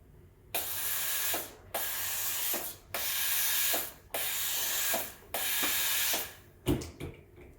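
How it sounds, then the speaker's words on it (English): An espresso machine's steam wand on a Breville Oracle Touch purges in a series of loud hissing bursts, about five sustained blasts with brief pauses between them, close and with no talk. "So it'll clean itself and purge steam through it."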